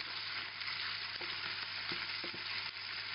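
Garlic and chorizo pieces fry in a pan for a pilaf, a steady close sizzle and crackle with a few soft stirring knocks, no voices.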